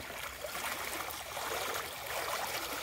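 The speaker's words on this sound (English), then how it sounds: "Creek be flowing good today." A creek running full after heavy rains, a steady close rushing and trickling of water that continues without a break.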